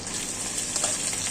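Hilsa fish heads fry in hot oil, a steady, dense sizzle with crackling bursts that holds close and loud the whole time, with no talk over it.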